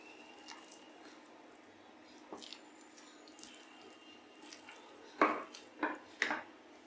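Millet pongal gets stirred in a pot with a spoon: soft, quiet scraping and mixing up close, then three or four sharper clinks of metal against the pot near the end, with no talking.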